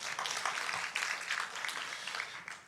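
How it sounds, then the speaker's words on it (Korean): Congregation applause during an afternoon Sunday church service after a child gives a correct answer, faint and distant, a steady patter of many hands that fades near the end. "박수 한번 보내줄까요?"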